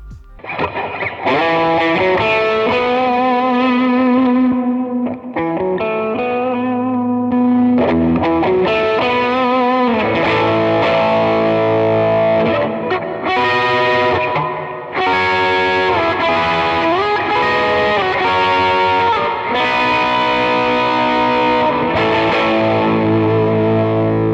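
Electric guitar through a Morning Glory overdrive pedal playing a loud, continuous run of chords and melodic lines with a gritty, saturated tone throughout.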